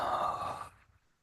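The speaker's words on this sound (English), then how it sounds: "Exhale." A long deep exhale during guided meditation, a soft breathy sigh that holds steady for most of a second and then fades into near silence.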